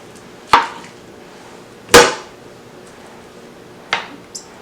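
Three sharp knife chops strike a cutting board as pumpkin is cut up, spaced a second or two apart, close and crisp, with a light tap at the end.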